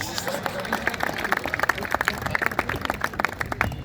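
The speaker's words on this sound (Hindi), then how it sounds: "उस पर आपकी तालियां मिले" Stand-up comedy show audience breaking into applause, a brisk, fairly close patter of many hands with some crowd murmur underneath, sustained for several seconds.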